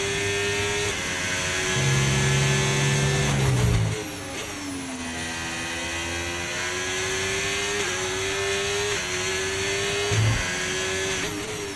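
F1 race car in F1 25 screaming at high revs, pitch climbing and dropping sharply at each upshift, several shifts in a row, loud and close with steady engine drone between them.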